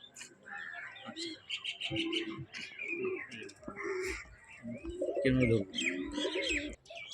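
Pigeons coo and call close by while birds chirp in the background, with soft voices talking intermittently over the steady mix of bird sounds.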